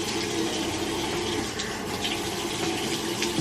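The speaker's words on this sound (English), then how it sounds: "Okay, now I'm gonna rinse it off." Tap water runs steadily as face wash is rinsed off over a sink, a close, continuous splashing rush with no talking.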